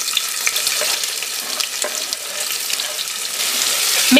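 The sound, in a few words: garlic and chopped onions frying in hot oil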